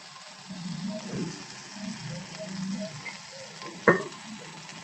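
A spice paste for a home-style Bengali fish egg fritter curry sizzles and crackles steadily in a hot pan. Stirring scrapes break up the frying, and one sharp clatter stands out near the end.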